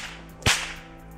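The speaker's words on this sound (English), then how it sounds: "I'm just going to be testing the basic Kappelman crack" A single sharp, loud crack from a homemade bullwhip doing a Kappelman crack in an open valley, standing out alone against quiet background and trailing off in a brief echo.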